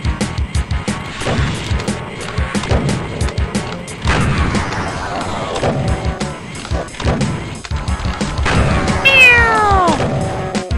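A cat meows loudly and repeatedly near the listener, with drawn-out rising and falling cries among thumps and clattering sounds, and a voice briefly joins in.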